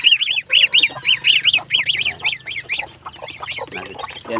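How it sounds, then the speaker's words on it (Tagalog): A turkey hen calls in a rapid string of high, sharp yelps, repeating in quick rhythm close by with no talking. "Yan po ang nanay ng aking pabo."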